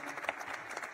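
Brief, faint applause from a conference room audience at an energy braintrust session, cheering the Mayor of Houston, a soft crowd clatter with a few distinct claps.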